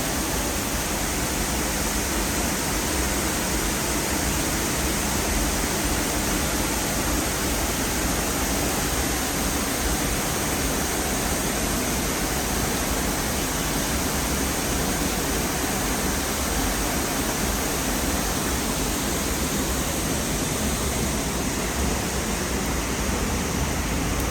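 Middle North Falls at Silver Falls State Park in Oregon, a 106-foot drop, roars as a steady, broadband rush of falling water, constant and close with no breaks.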